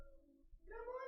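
A cat standing at a door lets out a single short meow, close and fairly quiet, with low background noise around it.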